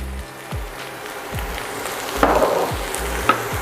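Seasoned meat for a cottage or shepherd's pie with black pepper sizzling loudly in a pan, a steady close fry with rhythmic scraping strokes as it is stirred, no voices.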